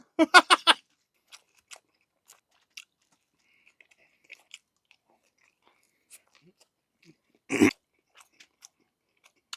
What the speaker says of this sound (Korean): 고기가 왜 이렇게 아삭아삭하지?